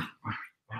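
Two pet dogs, Nala and Tilly, playing in a home lounge room, letting out two short, rough growling bursts separated by a brief pause, fairly close and quiet.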